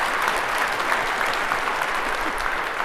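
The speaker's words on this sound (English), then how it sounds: "Round of applause for this panel." An audience at an AI summit applauds a panel, steady dense clapping filling the whole stretch at even loudness with no pauses.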